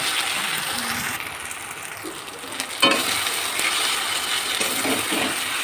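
Ginger garlic paste being stirred in a pan of frying mutton for a Bengali mutton curry, a continuous sizzle with scraping spatula strokes and a sharper clatter midway, heard close and without talk.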